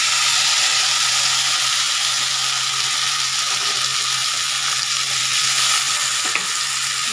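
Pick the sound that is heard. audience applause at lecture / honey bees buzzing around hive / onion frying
onion frying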